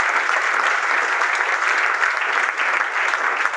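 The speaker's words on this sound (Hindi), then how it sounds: "तो मैं चाहूंगा एक बार जोड़ा तालियां श्रीवास्तव जी।" An audience at a JANSHAKTI GROUP company gathering in India claps in a steady, even round of applause that fills the room and holds at the same level throughout.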